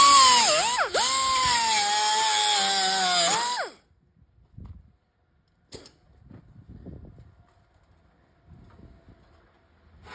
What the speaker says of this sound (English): I'm gonna cut this weld off.